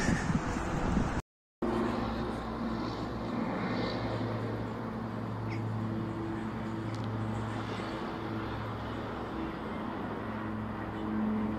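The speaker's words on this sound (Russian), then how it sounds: "Мам, смотри, самолет горит." An airplane passing overhead, a faint distant engine drone with steady low humming tones that persist throughout, interrupted by a brief silent gap near the start.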